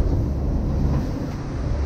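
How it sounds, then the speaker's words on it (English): Gusty wind blowing across a Lagoon 42 sailing catamaran, a dense steady roar buffeting the microphone with a low rumble and no voices. "There's really gusty winds going through the well."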